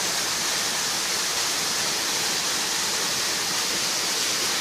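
A small waterfall or stream of green water rushes in a steady, dense, unbroken hiss, close and loud throughout with no other sounds.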